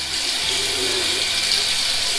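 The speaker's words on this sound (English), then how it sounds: "I'm going to run the razor under hot water." A razor is rinsed under hot water running from a tap, giving a steady, close rushing stream that continues without a break and has no talking over it.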